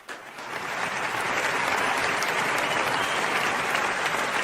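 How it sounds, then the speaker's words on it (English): Audience at a product launch breaks into applause, building quickly from a soft start into a steady, dense roar of clapping that holds to the end. "please put your hands together and welcome them with a huge round of applause"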